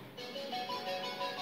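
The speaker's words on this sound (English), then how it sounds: "Beautiful ringtone for you." A melodic phone ringtone plays steadily with layered tones and a repeating pattern, moderately loud with no talking.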